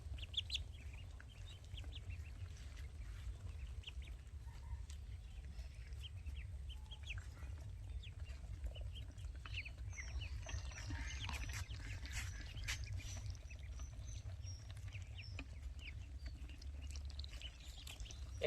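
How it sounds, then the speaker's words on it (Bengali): Native-breed ducklings move about on a small farm, producing faint scattered peeps and clucking calls over a low, steady background hum. "এখানে হাঁসের বাচ্চাগুলো খুব ঘোরাফেরা করছে"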